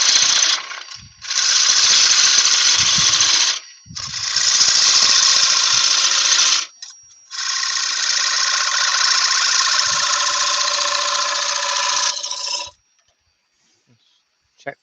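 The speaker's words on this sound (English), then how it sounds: "So we can still go in with the same chisel." A chisel cuts a rolled-rim yew wood bowl spinning on a lathe, a loud steady scraping roar in three long passes with short pauses between, then silence at the end.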